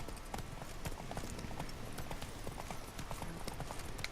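Roach, Geralt's horse in the video game The Witcher 3: Blood and Wine, gallops in a fast, steady clatter of hoofbeats close by, a continuous rolling rhythm with faint game ambience beneath.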